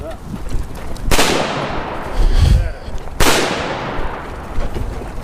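Two sharp, loud pistol shots about two seconds apart, each cracking and then echoing away, with a low rumble of handling noise between them.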